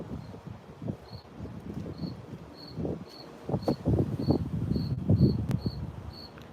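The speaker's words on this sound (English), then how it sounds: "And we've got a cricket here." A cricket chirps in short, evenly spaced pulses through a summer night, steady and fairly close, while rustling and low handling noises rise and fall beneath it.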